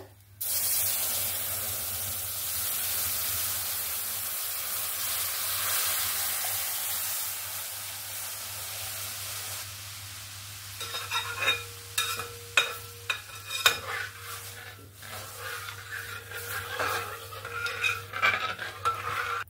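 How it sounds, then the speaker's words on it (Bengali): Milk poured into a wok for rice payesh heats with a steady hiss at first, then stirring scrapes and clinks of a spoon against the wok grow louder and more rhythmic. "দুধটাকে এখানে ভালো করে একবার জাল দিয়ে নেব।"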